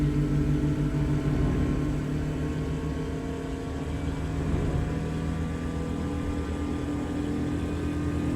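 A 1.4 litre Volkswagen Polo GTI engine accelerates in American Truck Simulator, a steady droning hum that stays loud and close, with only a slight rise in pitch and no voices.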